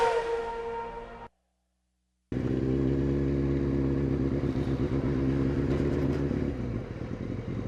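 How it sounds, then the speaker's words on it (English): A Kawasaki ZX9R motorcycle heard on a Birmingham road, its engine droning loudly and steadily up close after a brief cut, with the pitch rising and falling as it revs. "Give your bike a rev"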